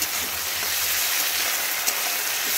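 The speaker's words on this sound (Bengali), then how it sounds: "একটু নুনটা দিয়ে ভালো করে ভেজে নিচ্ছি" Vegetables fry in oil with a little salt, giving a soft, even, continuous hiss with one small clink near the end and no talking.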